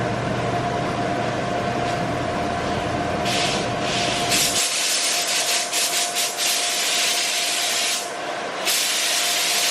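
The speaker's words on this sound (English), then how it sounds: "Base coat is done. I got my clear coat here." Clear coat paint sprays onto a car body in a home body shop, hissing in bursts from the spray gun over a steady compressor-like drone, close and loud, with short pauses between passes.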